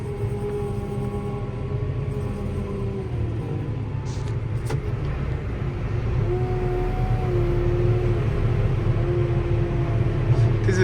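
A JCB telehandler engine runs steadily and grows slightly louder as it pulls forward on a farm, a constant low rumble with a faint tonal whine, alongside nearby machinery.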